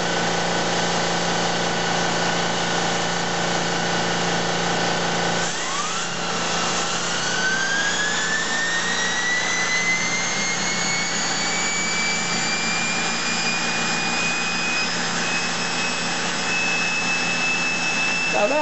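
Small model turbine engine on a test stand spooling up from about 1400 RPM: a steady loud whine whose pitch climbs smoothly and then levels off at a high sustained tone, with no talking.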